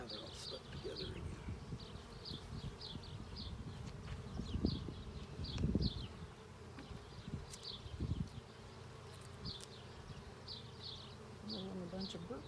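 Honeybees buzz steadily around an open hive during an inspection, a dense close hum with scattered higher buzzes and some handling thumps, while a person talks quietly now and then.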